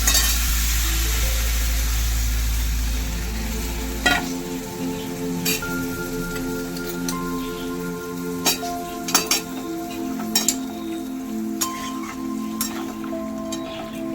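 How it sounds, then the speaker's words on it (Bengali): Vegetables for niramish shukto simmer and sizzle in a pan after a splash of water is added, a loud initial hiss settling into a steady bubbling with scattered clinks of a utensil. "আনাজটা আর একটুখানি সেদ্ধ হতে হবে তো দিয়ে দিচ্ছি সামান্য জল"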